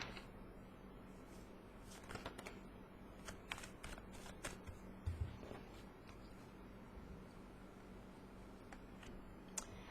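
Tarot cards shuffled in a quiet room during a reading, giving soft, steady riffling and sliding with a few crisper flicks and slaps, close and low in level.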